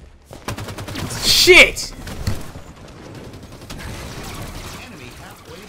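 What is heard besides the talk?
gunfire in Halo 5: Guardians multiplayer, a video game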